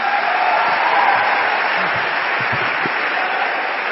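Loud, dense applause from an audience at a motivational seminar, a steady wash of clapping that fills the whole moment without a break.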